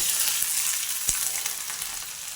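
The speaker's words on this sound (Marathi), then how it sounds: "आता आपण हे तेल तापलं आहे आपलं मी मोहरी टाकून पाहते तापले" Mustard seeds crackle and sizzle in heated oil as a tempering for bottle gourd salad, a steady loud hiss with one sharp pop partway through.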